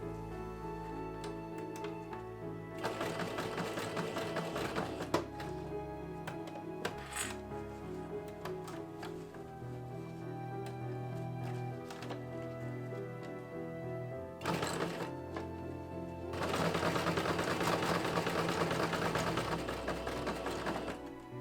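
A sewing machine stitches the elastic waistband of short cosplay bloomers in several fast rattling bursts, separated by pauses and quieter handling, the last run loudest and longest.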